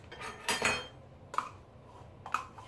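A utensil scraping and clinking against a bowl while mixing cottage cheese, three separate bursts of stirring close by with quiet pauses between.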